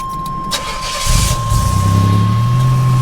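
A 1987 Buick Grand National's six-cylinder engine, exhausting through a single pipe, cranks briefly and catches, then settles into a close, steady, throbbing idle, with no voices over it.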